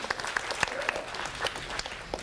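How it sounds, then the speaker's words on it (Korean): Light applause from a small lecture audience, scattered individual claps over a quiet room, fairly faint and brief. "박수 한번 해주시죠"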